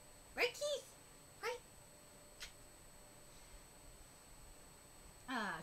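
A pet cat meows several times, short calls spread across a quiet room with a faint steady background hum and no talk over them.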